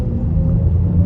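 2023 BMW XM in pure electric mode pulling away under throttle, a low steady cabin rumble with almost no motor whine and no voices.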